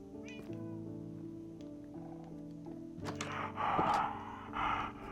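A cat meows in the video game Minecraft, with a few drawn-out cries over a steady tonal music bed, growing louder near the end with one or two strong wailing meows.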